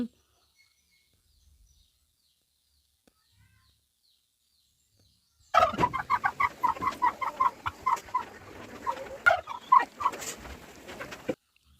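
After several seconds of near silence, a turkey breaks into a rapid series of gobbling, warbling calls, close and loud, continuing in bursts until it stops.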